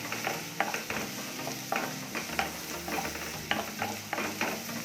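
Finely chopped garlic fries in a pan as a paneer pepper fry is made, a soft steady sizzle under intermittent stirring scrapes and light taps of a utensil, fairly quiet throughout.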